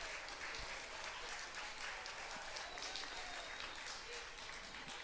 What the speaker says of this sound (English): Big round of applause for our last competitor here.